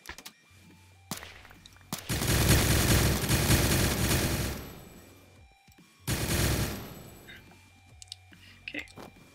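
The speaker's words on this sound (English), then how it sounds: "This minigun, OP." Minigun fire in Minecraft, heard as two loud, dense bursts of rapid automatic shots, the first lasting about two and a half seconds and the second shorter, with quieter clicks and game sounds in between.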